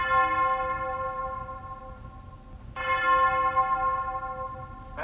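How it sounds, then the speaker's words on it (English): A bell tolls during a school stage production of Macbeth, two resonant strikes with long ringing decay, clear and fairly close, with no speech. "The bell invites me."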